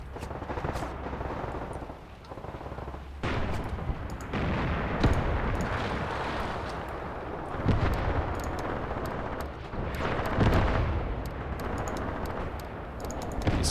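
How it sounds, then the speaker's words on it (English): Mortar blasts and machine gun fire in the WWII war game Graviteam Tactics with Panzer II tanks, a continuous dense rumble of booms and rattling bursts, heavy low thuds swelling and fading in waves. "Enemy mortars are trying to target my machine gun here."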